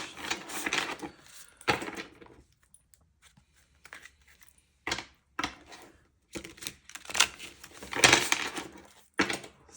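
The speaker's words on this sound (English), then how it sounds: "So I'm just going to shuffle these for a minute." Intermittent bursts of riffling and slapping as tarot cards are shuffled, close by, separated by short quiet gaps.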